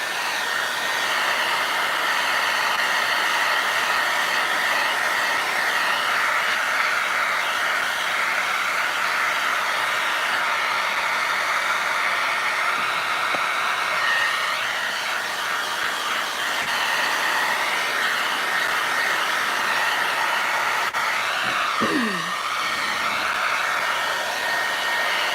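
A hair dryer blows steadily and loudly for the whole stretch, drying Pentart fineline crackle medium on a small craft piece, with a brief squeak near the end.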